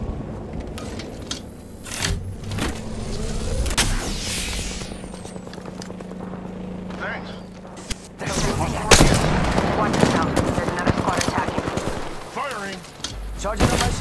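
Bursts of automatic gunfire ring out in the video game Apex Legends, loud and rapid, with heavier volleys near the end. Game voice callouts are heard throughout.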